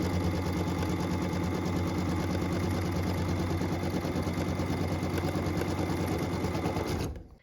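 A sewing machine runs steadily and at close range, stitching the full square around a quilt block, its fast even whirring hum continuing without a break for about seven seconds before it stops.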